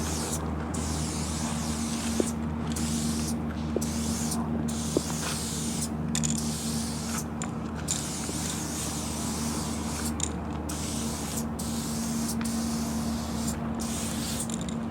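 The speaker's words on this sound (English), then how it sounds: "let's do a quick little throwie just to see how it sprays" An aerosol spray paint can hisses steadily while filling in a graffiti throwie, with brief breaks between bursts and faint clicks from the nozzle.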